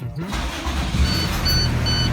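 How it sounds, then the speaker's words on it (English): A bus engine cranks and catches, then settles into a steady low idle rumble, loud and close, with no talk over it. "Eric, would you mind starting up the engine and then we can hear what it sounds like?"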